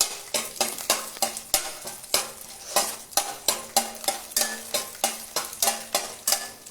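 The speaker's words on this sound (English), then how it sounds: "थोड़ा हिलाती है" Chana and urad dal frying in a pan while a spoon stirs them, giving regular scraping strokes about twice a second over a soft sizzle, close and clear.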